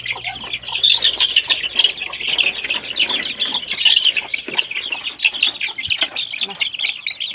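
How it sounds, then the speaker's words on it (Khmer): A coop full of young chicks peeps and chirps continuously and densely, close and fairly loud, as they peck at cabbage leaves in a backyard. "ហើយនេះគឺកូនមាន់មួយទ្រុងទៀត"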